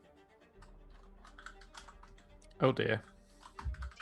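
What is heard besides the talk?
typing on a computer keyboard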